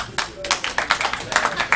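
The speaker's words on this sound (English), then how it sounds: "Let me hear a round of applause" Audience at a live stand-up comedy show breaks into applause, a brisk wash of many hands clapping in quick irregular bursts, fairly close and loud, with faint voices underneath.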